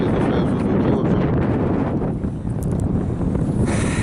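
A motorboat runs along a river, its motor and rushing wind blending into a loud, steady roar with heavy wind buffeting on the microphone throughout.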